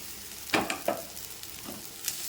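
Onions and cooked ragi vermicelli sautéing in a pan, a soft continuous sizzle with a few brisk stirring scrapes clustered early and another sharp clink near the end.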